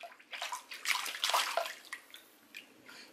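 Water sloshes and splashes in a filled bathtub in bursts of irregular, fairly close splashing with some drips, and no voices over it.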